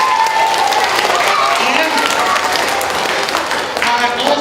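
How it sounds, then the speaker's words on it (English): School audience applauding, dense clapping sustained at steady loudness for several seconds, with a brief spoken word at the start. "How about a nice round of applause for our friends, please?"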